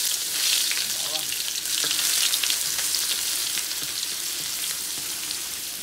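Garlic sautés in hot oil as the base for Bicol Express, with a loud, bright hiss and crackle that gradually settles into a steady sizzle. No one speaks.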